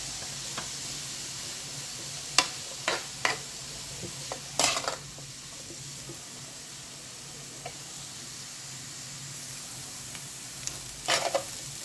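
Onions, potatoes and peppers frying in a pan, a soft continuous sizzle under scattered stirring scrapes and utensil knocks, close and fairly quiet, with no talking.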